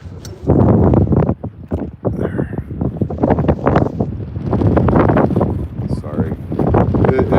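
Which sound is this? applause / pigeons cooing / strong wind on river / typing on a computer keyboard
strong wind on river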